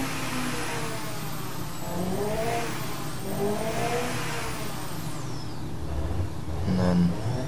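Turbocharged 939 cc four-cylinder engine making 140 hp on 45 psi of boost in the Automation game, revving up in repeated rising sweeps with a whining boost tone, loud and close, with no talking.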